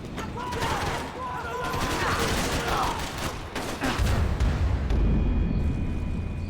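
Gunfire in Max Payne 3 crackles in loud, rapid bursts and sharp shots, layered with a heavy booming rumble near the end, while someone shouts over it.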